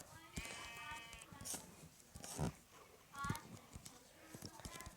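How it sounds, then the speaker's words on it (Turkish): Short sheep bleats from Minecraft come up a few times amid clicky footsteps, with a voice talking over part of it. "Şurada bir koyun var öldürelim şunu."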